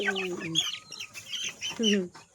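Mother hens cluck and chicks peep close by in a farmyard, with uneven bursts of clucking and short high calls mixed together.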